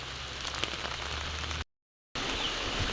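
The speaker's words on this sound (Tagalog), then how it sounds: "dito po yung umuulan ngayon" Steady rain pours down outdoors at a building site where concrete is being poured into wooden forms for a post, a continuous hiss broken by a brief silent gap, with no talking.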